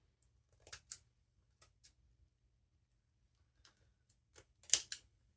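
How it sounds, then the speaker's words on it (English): Scissors snipping through material for a handmade snow globe ornament: quiet, crisp cuts in small bursts of two or three, separated by pauses, close up in a silent room. "Actually, the scissors were easier than the X-Acto knife."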